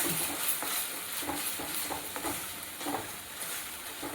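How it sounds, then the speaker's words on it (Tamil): Chopped onions sauté in a pan with ground turmeric paste, a continuous sizzle broken by repeated scraping strokes of a spoon stirring them, close and moderately loud. "அந்த வெங்காயத்தோட பச்சை வாசனை போகிற வரைக்கும் சீக்கிரம் வணங்கிடுங்க"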